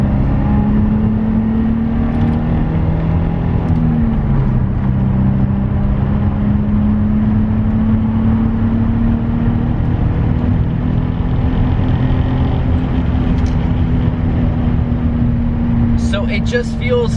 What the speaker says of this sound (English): Right here, I'm gonna downshift and just go a little faster on the corners to see how it feels.